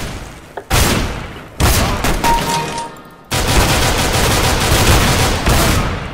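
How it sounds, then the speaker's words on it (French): Gunfire in Counter-Strike: Global Offensive sounds as several loud, close bursts of rapid shots separated by brief gaps, ending in a long sustained volley. "j'ai tiré dans la tête"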